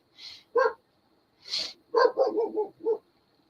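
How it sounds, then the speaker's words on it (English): Several dogs bark outdoors after dark, a burst of sharp, fairly close barks and yips in an irregular cluster with quiet gaps between. "there are my dogs going off"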